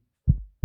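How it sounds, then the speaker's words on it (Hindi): Heartbeat sound effect: two deep, muffled thumps about a third of a second apart, loud and isolated against silence. "दिल की धड़कनें सबकी धुक धुक धुक धुक"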